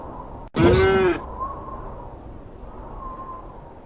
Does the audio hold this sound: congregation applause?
no